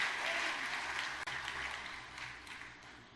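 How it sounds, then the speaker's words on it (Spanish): A church congregation claps hands steadily for the Lord during a sermon, a dense, continuous wash of applause that fills the room without a break. "Dale fuertes palmas al Señor, mi querido hermano y hermana."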